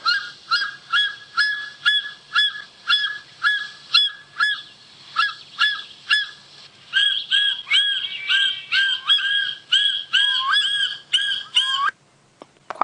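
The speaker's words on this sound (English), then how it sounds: "So that wasn't just a single martial eagle making those sounds, though." Recorded martial eagle display calls from two birds, played back through a phone bird app on a sunset safari drive: repeated clear whistled, yelping notes in steady bursts, becoming denser and overlapping midway, then ending abruptly.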